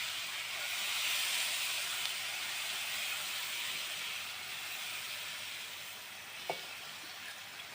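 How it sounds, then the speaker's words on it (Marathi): Field beans and their stalks sauté in a pan with a broad, steady sizzling hiss that swells and eases, plus one brief clink near the end, close and continuous. "आता याच्यामध्ये हे वाल आणि देठ चांगले परतवून घ्यायचे।"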